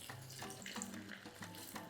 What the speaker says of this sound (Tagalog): Naglalagay din ako ng konting tubig dito.